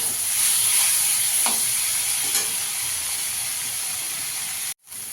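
Taro frying with turmeric in a pan, a bright steady sizzle and hiss close up with a couple of stirring scrapes, cutting off abruptly near the end.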